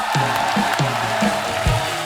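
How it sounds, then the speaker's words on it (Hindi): A studio audience at a comedy talk show applauds and cheers for the guests, a broad clapping roar over strong background music with a repeating beat, loud and sustained throughout. "जोरदार तालियां हमारे मेहमानों के लिए"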